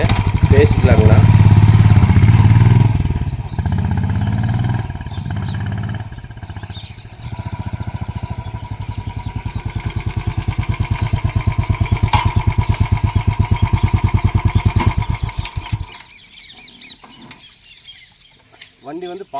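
A Royal Enfield Bullet 350 cc motorcycle idles nearby with its characteristic steady thumping beat, rising into a faster rhythmic pulse midway before cutting off near the end, with someone talking over it early on.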